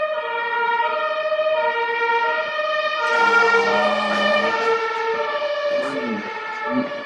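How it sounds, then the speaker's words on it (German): A German ambulance siren blares loud and close, steady multi-tone wailing that swells in intensity partway through and carries on without pause, with the engine of the emergency vehicle faintly underneath. "Aber es ist so unverschämt laut, diese Krankenwagen."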